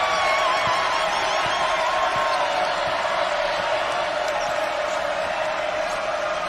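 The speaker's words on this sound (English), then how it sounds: "The crowd making some noise here at Mackey Arena" A crowd at Mackey Arena during a Purdue women's basketball game against Texas A&M keeps up a steady, loud roar of cheering and whooping that holds level the whole time, with faint thumps underneath.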